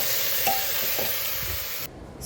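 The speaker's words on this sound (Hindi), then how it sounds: "मैं लौकी की सब्ज़ी बना रही हूँ" A bottle gourd curry cooking in a pressure cooker is stirred with soft scraping strokes under a steady sizzling hiss, close by, before the sizzle drops away near the end.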